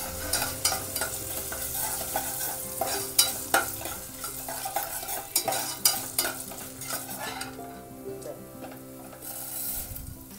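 Asafoetida and coriander seeds sizzle in a hot pan over a low flame while a spoon scrapes and stirs them, for a wedding-style vangi bath. The scraping is close, busy and rhythmic over a steady frying hiss, with no talk.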